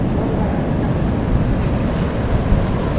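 Water pours down the stepped spillway of Iranaimadu reservoir with its gates open, a loud, continuous broadband roar with some wind buffeting on the microphone and no voices.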